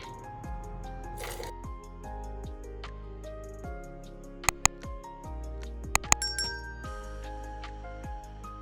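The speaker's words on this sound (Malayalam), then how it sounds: "ഇനി ഇതിലേക്ക് തിളച്ച പാലൊഴിക്കാം." Boiling milk poured into caramelized sugar for butterscotch pudding in a kitchen: soft liquid squishing and bubbling with scattered sharp clinks of a utensil against the pan, fairly quiet with a few brief louder taps.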